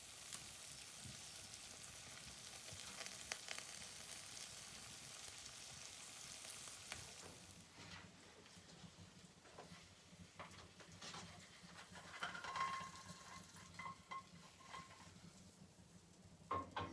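Eggs fry in a pan outdoors at a hunting shelter: a quiet, steady sizzling hiss that fades after several seconds into faint crackles and occasional light pan clinks.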